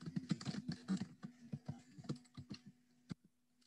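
Computer keyboard typing code, a quick run of irregular clicky keystrokes close to the microphone that thins out toward the end, with a faint steady hum underneath and no talking.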